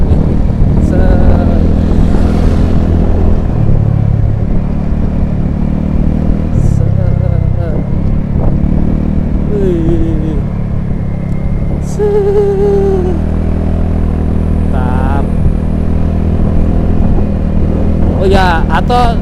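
A motorcycle on a solo tour along a mountain road, its engine droning steadily and close throughout with shifting pitch, while a rider talks over it.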